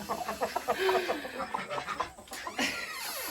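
A hen in a homemade poultry coop clucks in a quick, close run of short, repeated notes, with a brief squawk partway through as she moves about.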